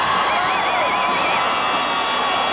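A football stadium crowd pouring out of the stands after a Nebraska at Oklahoma game in 1985, a steady, dense roar of cheering and shouting that stays loud throughout, with a whistling tone rising above it.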